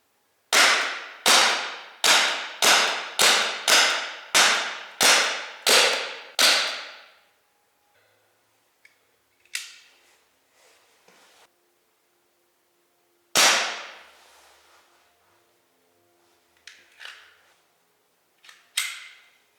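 Sig P365 CO2 .177 caliber BB pistol fired rapidly, about eight sharp cracks in quick even succession, close and loud, then scattered faint clicks, one more shot later and a final small pop after a pause.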